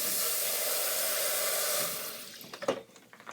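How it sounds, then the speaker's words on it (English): Cold tap water runs steadily for rinsing rice, a continuous rushing flow that fades out partway through, followed by a few clunks and splashes of handling. "I rinse mine in cold water."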